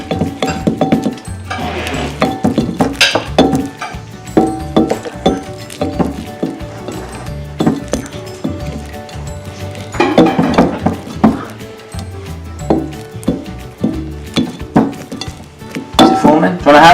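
Glitter slime being stirred in a bowl, with repeated clinks and scrapes of a utensil against the bowl in an irregular, busy rhythm, close and fairly loud, with some voices in the background.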